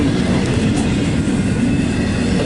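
A freight train rolls past with an ES44AC locomotive at the back, giving a loud, steady rumble and clatter of wagons close by without a break.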